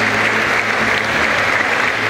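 A dense, steady burst of applause from a crowd at a rural school festival, loud and close, sustained without a break.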